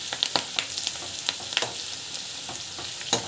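Onion and greens pakoda frying in hot oil, a steady close sizzle with scattered sharp pops and crackles throughout.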